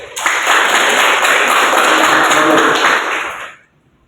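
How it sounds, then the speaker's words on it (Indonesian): A classroom audience applauds during a health-services lecture, a dense burst of clapping lasting about three seconds before cutting off abruptly. "Berikan aplaus."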